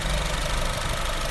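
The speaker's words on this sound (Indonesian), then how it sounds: "Untuk suara mesinnya masih halus om, masih bagus." A 2018 Honda Mobilio E manual's engine idles smoothly at close range, a steady low hum with even mechanical rumble and no break.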